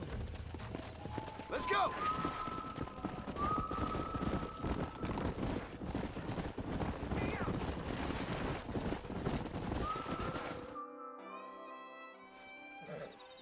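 Rapid galloping hooves clatter steadily in Red Dead Redemption as someone shouts briefly, then the hoofbeats stop and quieter tonal sounds remain.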